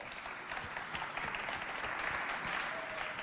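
Sustained applause from a school audience for a student of Lycée Le Patriote at a Lycée Moderne Le Patriote versus Lycée Les Excellents competition, a steady dense clapping that holds at an even level for the whole stretch.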